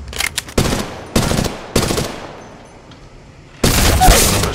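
Automatic gunfire in Apex Legends Mobile: several loud, close bursts of rapid shots separated by short pauses, ending in a longer sustained burst.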